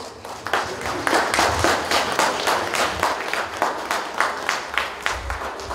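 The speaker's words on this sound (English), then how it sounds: "So, I think they need a loud round of applause." Guests applaud at an 18th birthday party, a sustained round of clapping from a crowd that holds steady at a loud level with no speech on top.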